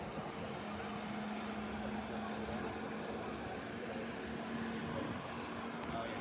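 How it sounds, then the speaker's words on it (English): An Emirates Airbus A380 starts its engines at Manchester Airport, a steady, loud, broad roar with a faint, even whine running through it, continuous throughout. "So for this now we can hear the A380 just starting its engines now."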